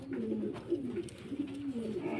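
Yellow Lahori pigeons cooing close by, several soft low rolling coos repeating in a steady rhythm with faint background noise.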